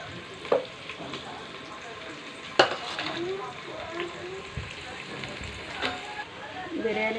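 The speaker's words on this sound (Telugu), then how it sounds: "బిర్యానీ సామాన్లు వేసుకున్నాం. కాసేపు వేగాక కొంచెం" Biryani ingredients with green chilies frying in hot oil, a steady close sizzle with occasional louder pops and stirring clatter, no talking.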